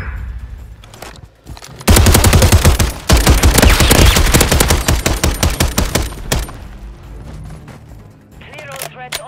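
Rapid automatic gunfire in Call of Duty rattles loud and close for about five seconds, a dense stream of shots that thins into scattered bursts, with voices talking before and after.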